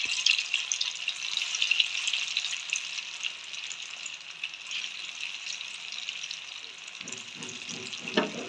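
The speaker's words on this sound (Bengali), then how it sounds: "এবার আমার এদিকে তেলটাও গরম হয়ে গেছে। এবার আমি ভাজার জন্য ছেড়ে দেব।" Dhoka lentil cakes go into hot oil and fry with a bright, steady sizzle and crackle. A few soft clatters of utensils sound near the end.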